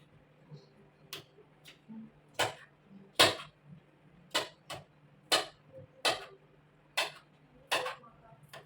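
A knife chopping chili peppers on a cutting board, about a dozen sharp separate taps at an uneven, unhurried rhythm, close and clear over a faint steady hum.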